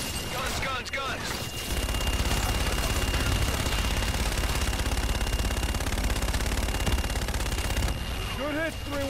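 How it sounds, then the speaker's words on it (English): An aircraft gun run in Call of Duty: Infinite Warfare lets loose a long, dense roar of rapid strafing fire that lasts several seconds, framed by radio-style voices talking before and after. "Roger, inbound for gun run. Guns, guns, guns!"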